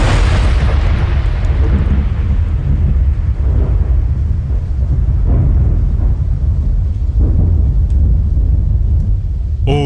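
A large fire roars loud and continuous like thunder, with deep rumbling booms that swell and fade in waves and no voices.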